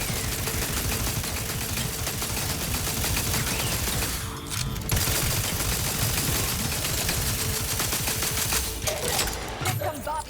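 Sustained automatic turret fire in the video game The Outer Worlds 2, a dense, continuous rattle of rapid shots running almost the whole time, with brief gaps in the barrage.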